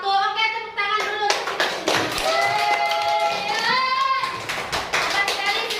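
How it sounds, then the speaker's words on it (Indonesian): Schoolchildren in a classroom clap their hands in patterned rhythmic bursts, mixed with their excited voices and chanting, loud and close throughout. "Oke, tepuk tangan dulu"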